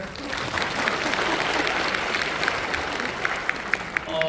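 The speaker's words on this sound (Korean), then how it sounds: "박수 한번 주시겠어요?" Audience applause fills the room, a dense, steady wash of clapping with a few sharper individual claps standing out toward the end.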